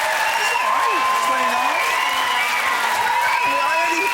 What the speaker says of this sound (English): A round of applause for our losers.